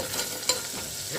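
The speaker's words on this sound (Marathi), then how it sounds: "आता आपण या तुपामध्ये भोपळा घालूया बारीक चिरलेला।" Finely chopped red pumpkin sizzles in two spoons of ghee, a close, steady frying crackle with one sharp clatter partway through.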